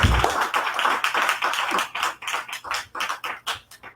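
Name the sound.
audience applause welcoming a speaker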